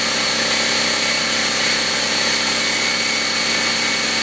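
A Harbor Freight Fortress 27 gallon air compressor, rated 5.1 SCFM at 90 PSI, runs close and loud with a steady motor drone and high mechanical whine, unbroken throughout.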